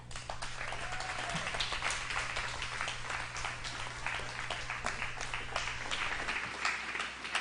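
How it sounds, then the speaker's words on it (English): Audience applause for the speakers at a fall 2018 peace conference, a steady wash of many hands clapping that fills the whole stretch at an even, moderate level with no voices. "Let's give our speakers another round of applause."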